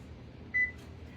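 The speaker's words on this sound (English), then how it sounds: "I'm going to preheat my oven to 375." A single short electronic beep from an oven's control panel as it is set to preheat to 375, clear against a quiet room.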